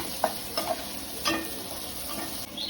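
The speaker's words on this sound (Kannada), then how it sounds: "ಇವಾಗ ಒಂದು ಸ್ವಲ್ಪ ಕರಿಬೇವು ಹಾಕೊತಾ ಇದ್ದೀನಿ ಅದಕ್ಕೆ." Curry leaves added to onions frying in a pan give a soft, continuous sizzle with a few sharp pops and spoon taps scattered through, close and fairly quiet, with no talking.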